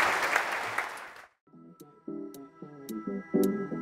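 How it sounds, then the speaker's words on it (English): Audience applause for the speakers at a talk on beer buzzwords: a dense burst of clapping for about a second that quickly dies away, leaving quieter, short tonal notes. "round of applause for these guys."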